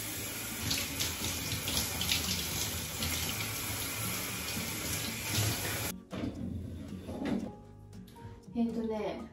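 A tap runs steadily into a home bathtub or shower area, a full rushing splash that cuts off abruptly, followed by quieter drips and small handling sounds, with someone speaking over it in the echoey bathroom.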